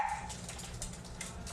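Several dogs barking indoors at a moderate distance, a burst of overlapping yaps over a steady background hum, with no talking.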